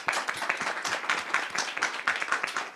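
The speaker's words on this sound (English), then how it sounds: "Just give them a clap." A small audience claps briefly for two special guests, artists introduced on stage at a talk; scattered, fairly quiet hand claps with an uneven rhythm, with no voices heard over them.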